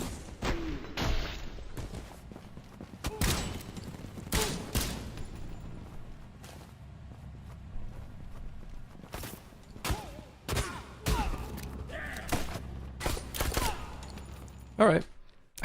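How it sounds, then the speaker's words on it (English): Nail gun fire in the game Suit for Hire, a string of sharp, punchy shots in irregular bursts, some close together, with someone talking intermittently between them. "The nail gun's a fun one."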